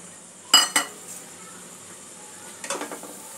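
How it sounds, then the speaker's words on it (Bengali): A spoon clinks sharply against a bowl twice while chhana is mixed with ginger paste and soaked asafoetida, followed by a softer cluster of scraping taps, all close and with no voices. "একটু সবকিছু একটু মিক্স করে নেব।"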